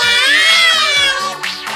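A cartoon cat meows loudly and close, a drawn-out wavering cry followed by a shorter second meow, with a simple bouncy music backing underneath.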